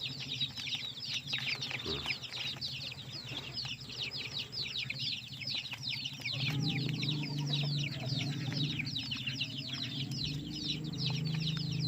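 Free-range village chickens in a coop cluck and chatter continuously in a busy, overlapping chorus, with a low rumbling background swelling up partway through.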